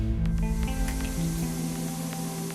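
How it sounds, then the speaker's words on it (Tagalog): Disinfectant spray is misted over cargo in Thailand, a close, continuous hissing spray over a steady mechanical hum with tonal machinery whine. "Sa Thailand, dinidisinfect din maging ang mga kargamento."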